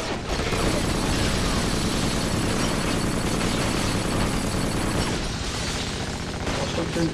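Dense, sustained gunfire and explosions crackle loudly in the PS2 shooter Black during a heavy-weapon and sniper battle, a near continuous barrage that eases slightly toward the end.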